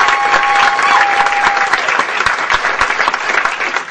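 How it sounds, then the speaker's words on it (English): A comedy club crowd in Tennessee bursts into loud, dense applause that carries steadily before thinning slightly toward the end, with a few whoops mixed in. "Big round of applause, Sammy Marten."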